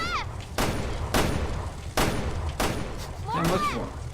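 Several loud gunshots from the video game Resident Evil: Revelations 2 ring out at roughly half-second to one-second intervals, each a sharp broadband crack with a short tail, over steady game background noise, with brief vocal sounds between shots.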